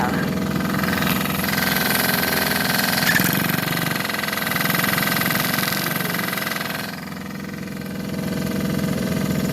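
Dirt bike engine idling nearby, a steady loud rumbling drone that dips briefly before picking back up, with people talking over it.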